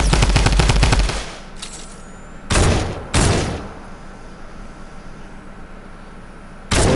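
Video game gunfire opens with a rapid, loud automatic burst, followed by a few separate heavy shots spaced out over the following seconds.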